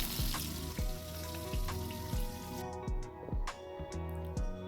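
Cauliflower florets frying in oil in a kadai give a steady sizzle, broken by repeated short knocks and clatters from stirring.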